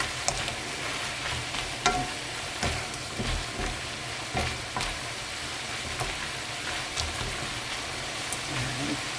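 Radish namul seasoned with tuna fish sauce is stir-fried in a pan, giving a continuous close sizzle with repeated soft scrapes and taps of a spatula stirring through it.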